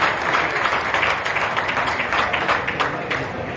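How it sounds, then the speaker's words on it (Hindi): An audience claps at a DTC bus launch and flag-off event held by the Delhi government, a loud, continuous roar of applause from a large crowd close by, unbroken from start to finish. "तालियों में कमी मत कीजिए, तालियां कभी कम नहीं चाहिए"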